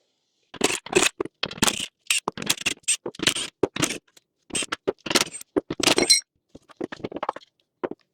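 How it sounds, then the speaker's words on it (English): Metal bolts, 13mm, clinking and scraping as they come off a Jeep Wrangler JL Rubicon's rear tire carrier, a close series of sharp clanks and rattles in quick bursts with brief pauses, no talk. "All we've got to do is get all of our 13mm bolts pulled off the tire carrier"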